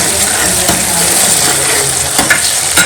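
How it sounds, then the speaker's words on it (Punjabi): A loud, steady sizzle of spices hitting hot oil in a pan as a tempering for saag, with crackling pops and a few sharp clinks near the end. "ਤੇ ਇਹ ਆਪਾਂ ਚਲੋ ਸਾਗ ਨੂੰ ਲਾ ਰਹੇ ਹਾਂ ਹੁਣ ਤੜਕਾ"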